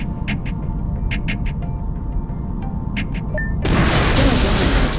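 Plasma rockets fired in the space shooter game Star Horizon: a sequence of short muffled pops over a steady low hum, ending in a loud sustained roaring blast.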